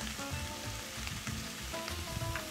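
Sausage seasoned with sage and chipotle powder cooks on a grill, giving off a soft, continuous sizzling hiss at low volume with faint crackles and no voices.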